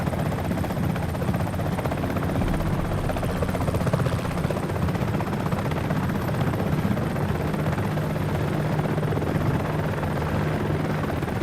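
A Comanche attack helicopter in a video game flies continuously with a dense, steady rotor roar and broadband whir, holding constant throughout with no voices.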